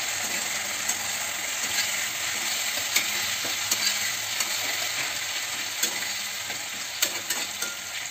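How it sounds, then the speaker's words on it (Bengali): Onions frying in a pan for fried rice made from leftover rice: a steady, close sizzle and hiss with scattered small pops and spatula taps, and no talking. "আমি সামান্য একটু ভেজে নেব, তারপরে আমি পেঁয়াজটা দিয়ে দেবো।"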